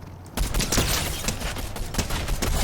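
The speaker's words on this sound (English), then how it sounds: "Let's just go ahead and shoot them, I guess." Gunfire in the Fortnite video game: after a brief quiet moment, a rapid, dense volley of shots bursts out and continues steadily, loud and close, with no talking over it.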